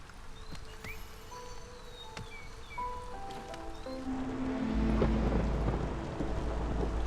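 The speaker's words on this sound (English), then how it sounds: "Oh, it's stormy. It's stormy out." Thunder rumbles outdoors beneath steady rain, a low roll that swells and grows louder toward the end, heard faintly at a distance with scattered sharp clicks.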